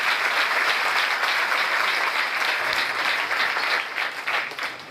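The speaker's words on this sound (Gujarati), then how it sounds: "Come on, give a big hand for the Lord." Sustained applause from a church congregation giving a big hand, steady and dense throughout with a slight tapering near the end.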